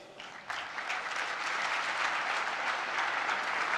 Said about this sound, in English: He likes to get 2 rounds of applause.